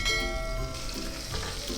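Ground garlic and mustard seeds frying in hot oil with a steady close sizzle and a few soft stirring scrapes, no talking.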